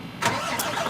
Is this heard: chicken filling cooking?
no